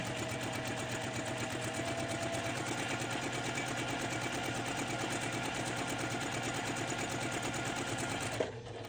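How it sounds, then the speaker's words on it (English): A sewing machine stitches a quarter-inch seam down the side of a pinwheel quilt block, running with a steady, even mechanical whir and rapid needle rhythm throughout, then stopping abruptly at the end. "I'm just gonna come and sew a 1/4 inch down the side here"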